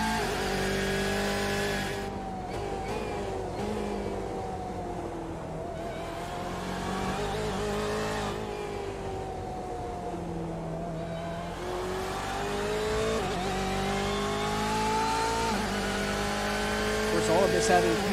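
Sports race cars from a racing game set at Sebring, engines droning and shifting pitch continuously as they run, with a commentator's voice carrying over the steady motor noise throughout.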